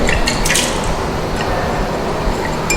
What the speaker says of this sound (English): So rinse it thoroughly with the distilled water